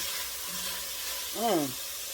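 Garlic fries in a pan with a soft, steady sizzle underneath, while a brief voiced sound rises over it near the middle.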